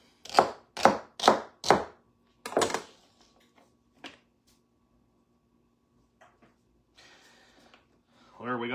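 Four sharp knife chops on a cutting board in quick succession, then a fifth after a short pause and a lighter tap, followed by quiet handling noises and a brief rustle.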